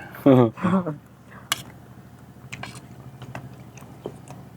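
Chewing on a spicy Thai seafood salad with squid, crab, fish and horseshoe crab roe: crunchy bites up close after a short burst of talk, then soft squishy mastication and occasional crisp crunches.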